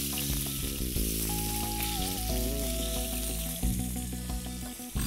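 Duck breast sizzles and fries in a hot pan, a steady crackling hiss that continues throughout, with some tonal background music playing over it.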